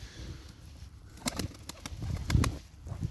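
Pigeons flap their wings in several sharp bursts as they fly down and land, close by, with faint cooing and rustling between the flurries.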